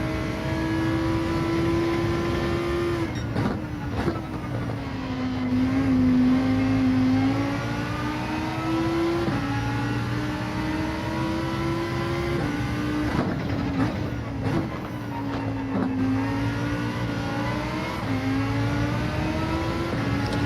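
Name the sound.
Lamborghini Huracan accelerating in video game Gran Turismo 7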